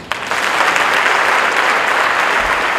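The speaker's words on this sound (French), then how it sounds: "On acclame Jésus." A church congregation breaks into loud, sustained applause for Jesus, clapping rising quickly after a short sharp onset and holding dense and even throughout.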